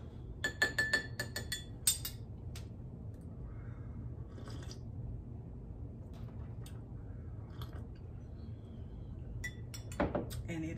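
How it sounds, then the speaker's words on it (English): A spoon clinks against a glass while a salted caramel drink is stirred, a quick run of bright clinks at the start, then quiet, with a few more faint taps and one clink near the end. "Give it a little old lightweight stir."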